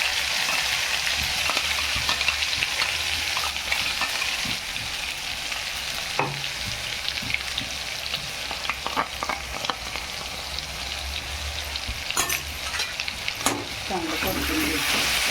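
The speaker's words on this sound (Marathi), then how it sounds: "चांगलं परतून घ्यायचं." Curry leaves and ground masala sizzle and fry in hot oil in a pan for soybean curry, a loud continuous crackling hiss with occasional stirring scrapes throughout, close up.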